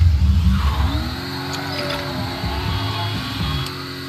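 A car engine in the Mafia III video game revs up and climbs through rising pitch as it drives off, steady and fairly loud with no talk over it.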